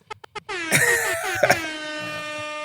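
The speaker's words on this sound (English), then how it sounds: "My boy, air horn in there" An air horn sound effect blasts loud and sustained after a few short clicks, its brassy tone wavering and bending with a couple of sharp bursts near the middle before holding to the end.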